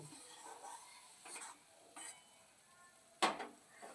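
Fish curry of silver carp is stirred in a pot after salt and turmeric go in, giving a few soft, scattered spoon scrapes and clinks, with one sharper knock near the end, all quiet and with no talking.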